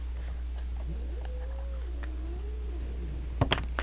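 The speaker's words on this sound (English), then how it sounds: "Now my cat's growling." A house cat gives a low, drawn-out growl that rises and falls over a steady hum, followed by a couple of brief clicks near the end.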